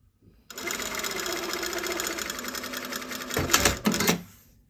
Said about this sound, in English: My sewing machine talks to you.